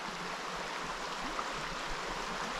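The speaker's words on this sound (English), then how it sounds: "Runs right along the river here." River flowing beside the Virginia Creeper Trail, a steady broad rush of moving water, continuous and fairly close with no speech.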